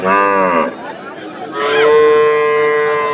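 A cow at the Anthiyur cattle market moos twice, loud and close: a short call followed after a pause by a longer, steadier one.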